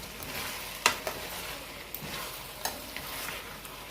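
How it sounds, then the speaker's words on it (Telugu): Farm chicken pieces cook in masala while being stirred, a quiet sizzle with a sharp utensil knock against the pan and a few softer scrapes. "దీన్ని ఇలా కలుపుకోవాలి బాగా"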